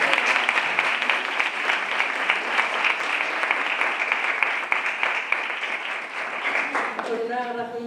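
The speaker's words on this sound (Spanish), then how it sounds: "Un aplauso para Yolanda." An audience claps warmly at an open-air poetry reading in Albolote, the dense applause holding steady for about seven seconds before fading as a voice resumes.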